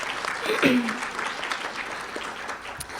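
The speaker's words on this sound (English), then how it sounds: "if you guys want to give a round of applause for them" An audience applauds steadily at a talk on diversity by a speaker, thanking an interfaith planning committee; the dense clapping runs throughout, with a brief voice rising over it near the start.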